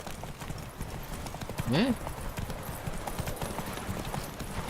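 Geralt's horse Roach in The Witcher 3 clip-clops steadily along at a close distance under a game soundscape, with a short neigh near the middle and a brief spoken word.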